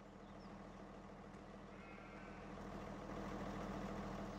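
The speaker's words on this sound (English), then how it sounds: "Let's leave our tractor running." A tractor engine in Farming Simulator 17 idles steadily with a low, continuous rumble that swells slightly louder toward the end, with no voices over it.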